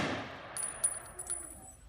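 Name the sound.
rifle volley fired at a military memorial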